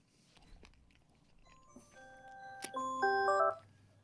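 Alarm clock ringing: after soft rustling, a bright electronic chime rises into a short melodic run of clear tones, growing louder for about a second before stopping abruptly, with no talk over it.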